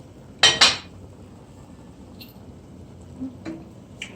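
A cooking pot being checked while pot roast beef cooks: two sharp metallic clanks of a lid close together, then a few softer clinks scattered over a quiet background.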